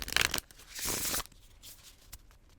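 Tarot cards being shuffled by hand come through as two quick, papery bursts, a short riffle at the start and a longer one just before the middle, then near-silence with faint rustles.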